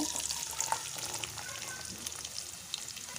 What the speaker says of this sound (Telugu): మనం ఇలా ముందుగా కట్ చేసి పెట్టుకున్న ఆనియన్ అయితే మంచిగా వేయించుకోవాలి ఆయిల్లో.